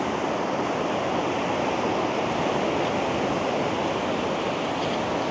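Ocean waves break and wash up on a nice patrolled swimming beach, making a loud, steady, broad roar of surf that runs through the whole stretch without a pause.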